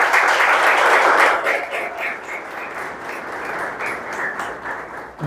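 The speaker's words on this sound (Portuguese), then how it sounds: "Salva de palmas para Jesus, irmãos." A church congregation claps together during a worship service, a dense, steady wash of applause that stays loud for several seconds before thinning slightly toward the end.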